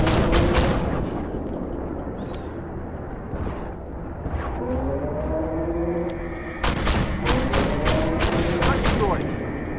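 Gunfire in the tank game Armored Warfare, sharp repeated bursts with rapid clustered shots and heavy booms, a dense busy battle din with a voice talking in places.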